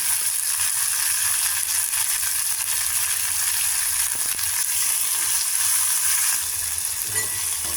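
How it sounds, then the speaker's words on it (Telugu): Curry leaves, green chillies and other dal ingredients sizzle and fry in a pan for gongura flower dal, a steady, close, bright crackling hiss with occasional faint stirring scrapes and no talking. "కొద్దిగా ఇవి కూడా కొద్దిగా పచ్చివాసన పోయేదాకా మనం వేయించుకోవాలి."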